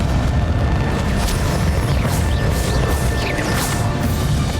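Confringo spell explosion during a Hogwarts Legacy final boss fight, a dense, continuous booming roar with crashing bursts layered over it at a steady high level.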